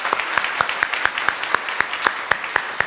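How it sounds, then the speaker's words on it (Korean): A church congregation claps to welcome newcomers during a Sunday worship service, with sharp individual claps standing out in an irregular rhythm above a softer wash of applause filling the hall. "우리 박수로 환영하도록 하겠습니다"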